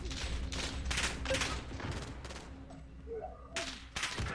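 A rifle in the video game 3v3 Gunfight fires in short three-round bursts. The sharp, close volleys come in quick succession, then pause and resume for a final few shots.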